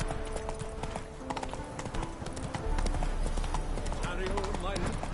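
A horse's hooves galloping in The Witcher 3, a quick rhythmic clip-clop running continuously and fairly loud beneath music and a voice speaking.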